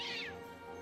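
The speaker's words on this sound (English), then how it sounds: "Oh no, a third cat!" A cat gives a single short, faint meow in the video game Dragon Quest 3 HD-2D Remake, a quick falling cry over a soft musical background.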